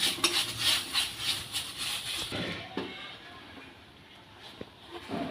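Washed, still-damp Gobindobhog rice is dry-roasted in a pan, with a rhythmic scraping and stirring that is busiest early on, then sparse clinks of the utensil against the metal. Quiet and close.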